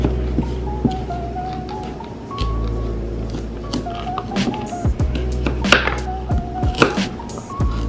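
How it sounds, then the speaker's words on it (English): A knife chops carrots on a cutting board, irregular sharp thuds over a low background hum, growing busier toward the end. "Now let's cut the carrots into size that will best fit the blender."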